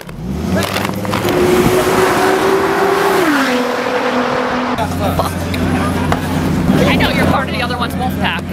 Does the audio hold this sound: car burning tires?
yes